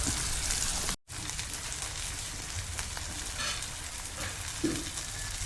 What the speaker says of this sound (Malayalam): ഫിഷ് നിർവാണക്കുള്ള ഫിഷ് ഏകദേശം ഫ്രൈ ആയി